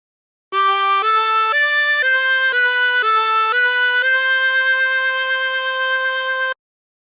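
A 24-hole tremolo harmonica plays the opening of My Bonnie Lies Over the Ocean as a short series of wavering reedy notes stepping up and down, ending on a long held tone, close and clear with no talking.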